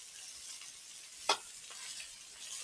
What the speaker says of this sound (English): You want to give that a good stir.